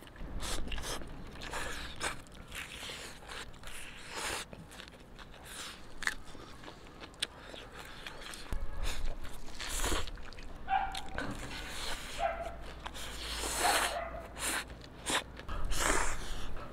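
Someone bites and chews a crispy fried chicken cutlet with a very crunchy coating, close loud crunches and chewing in irregular bursts, with brief pauses between bites, eaten outdoors in the sun.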